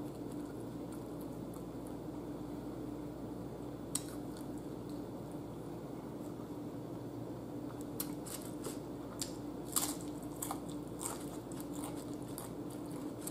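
Someone bites into a crunchy Jack in the Box Angry Monster taco, with a single crisp crunch early on and then a quick cluster of crackling bites near the end, heard close against a quiet room.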